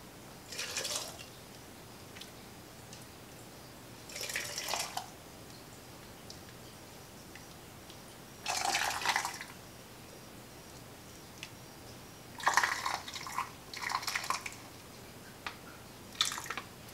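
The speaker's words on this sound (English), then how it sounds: "And then we'll add our cooking liquid." Cooking liquid is poured into glass jars of home-canned black bean soup in several separate short splashing pours, with quiet pauses between them.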